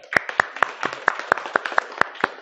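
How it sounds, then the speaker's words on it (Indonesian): A small group in a classroom claps after a group presentation, about a dozen sharp, fairly evenly spaced claps close by, with no talk over them. "Tepuk tangan."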